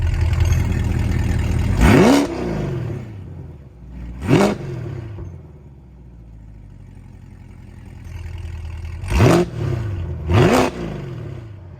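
A C8 Corvette V8 revs hard with its exhaust valves open, four sharp blips that rise and fall back, two close together early and two more near the end, over a lower idle burble.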